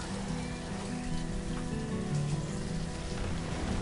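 Soft, steady patter of rain falling in the city-building strategy game Banished, faint and continuous under a quiet musical drone.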